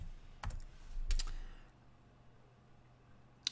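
A few quick keystrokes and clicks on a computer keyboard, sparse and close, followed by a quiet pause and one more sharp tap, with no speech.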